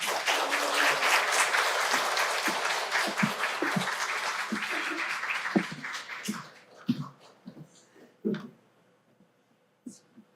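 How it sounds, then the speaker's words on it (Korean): A church congregation applauding during a Sunday service, dense sustained clapping that thins out after several seconds into a few scattered claps and then a single late clap. "집사님 나오실 때 큰 박수와 격려해 주시겠습니다"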